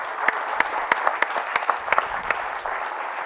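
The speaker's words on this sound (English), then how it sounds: "So round of applause for the panelists." A conference audience applauds the panelists at a business talk, dense clapping from a small crowd close by with a few louder individual claps, steady for about three seconds.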